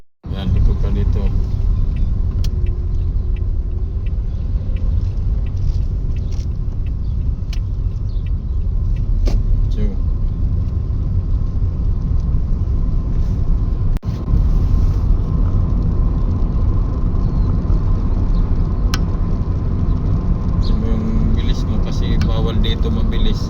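Car driven along a road, giving a steady low engine and tyre rumble throughout with occasional small knocks, while people talk inside the cabin.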